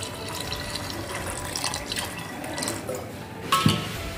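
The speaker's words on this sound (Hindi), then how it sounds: "इसमें पानी डाल देती हूँ।" Water runs and splashes into a pot of soaked kidney beans, a steady trickling pour with small gurgles and a louder splash near the end, close by and with no talking.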